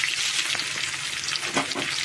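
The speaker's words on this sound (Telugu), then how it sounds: "ఉల్లిపాయలు వేగుతూ ఉండగానే కరివేపాకు," Onions and green chillies frying in a pan with popping mustard seeds, a dense steady sizzle with faint stirring scrapes, close and without voices.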